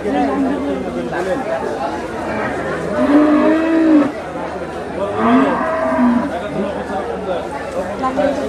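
Cattle low at a busy Qurbani cattle market at Gabtoli, with two long, drawn-out moos rising over a constant murmur of crowd chatter and talking people.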